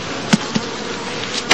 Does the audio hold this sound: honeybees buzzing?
yes